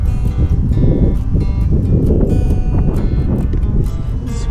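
Wind gusts roaring steadily across an open-water kayak fishing spot, with heavy low rumble and buffeting against the microphone throughout.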